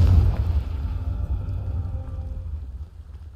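A deep, booming blast from the Confringo spell in Hogwarts Legacy, loud at onset and rumbling away over a few seconds with no talk.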